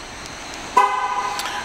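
A single short horn chirp from a 2009 Cadillac Escalade ESV being locked sounds up close, with a faint click before it, over a low steady background hum.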